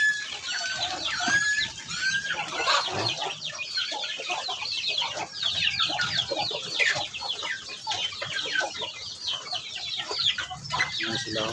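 Chickens of Rhode Island cross and native breeds cluck steadily at close range in a farmyard coop, with a dense stream of overlapping calls and occasional louder squawks throughout.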